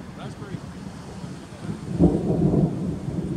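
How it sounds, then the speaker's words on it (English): Thunder rumbles low and heavy in the background outdoors in Yellowstone National Park during a bear-watching crowd, swelling louder about two seconds in and rolling on to the end. "Thunder in the background."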